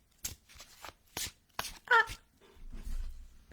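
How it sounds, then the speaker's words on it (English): Several quick riffling bursts of cards being shuffled, close by, separated by short pauses, with a low rumble toward the end. "I am going to shuffle cards"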